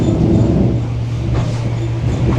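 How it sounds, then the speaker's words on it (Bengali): An express train passes on a Moscow local line as a steady, loud low rumble with a sustained hum and faint rattling, continuous throughout and heard up close. "এটা এক্সপ্রেস ট্রেন হবে"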